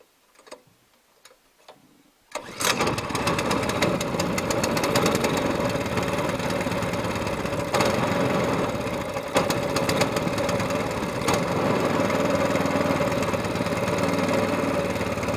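An SPS LongTail boat motor engine starts after a few quiet pulls, then runs loud and steady with a rapid ticking, knocking rhythm close by.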